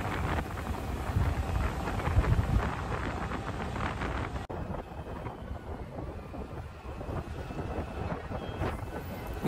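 Wind roars across a helmet-mounted camera on a motorbike ride between Bhongir and Jangaon, a heavy, buffeting rumble that is loud at first and eases somewhat halfway through, with no voices.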